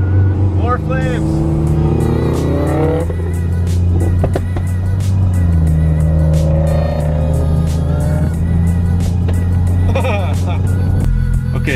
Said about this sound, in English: He was shooting flames